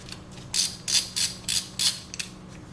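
A ratcheting socket wrench working a spark plug loose from a car engine, heard as about six short clicking ratchet bursts at an even rhythm, close up over a low steady hum.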